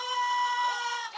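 Chicken clucking on a farm, a steady run of harmonic calls held for about a second, close and moderately loud, with no talking over it.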